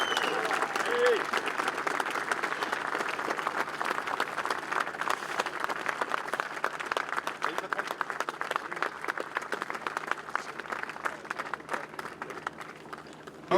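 Sustained applause from a crowd, dense clapping that holds steady throughout without pause.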